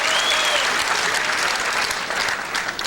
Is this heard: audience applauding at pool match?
yes